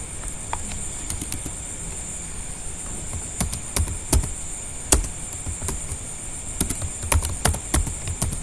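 Typing on a computer keyboard, scattered clicks and taps in uneven bursts, some louder keystrokes like the space bar, close by over a steady background hiss.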